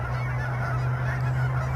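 Migratory geese honking on a town lake in winter, loud close calls overlapping continuously over a steady low background rumble.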